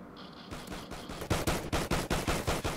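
Video game gunfire from an automatic weapon crackles in a rapid, evenly spaced burst of loud shots after a brief scrape, close and without talk.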